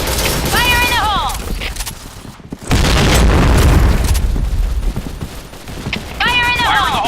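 Grenade blasts and gunfire in the shooter video game Point Blank, a loud booming explosion followed by sustained rattling fire and crackling debris, with a voice shouting callouts before and after.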